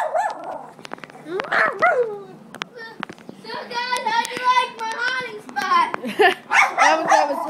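A dog growls and barks in short bursts at close range while people talk, laugh and coo over it during a playful game of hide and seek.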